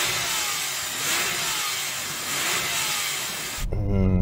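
Porsche 911 997 Turbo engine revving hard and sustained at close range, a steady high-pitched roar that holds for several seconds before dropping toward a lower idle near the end.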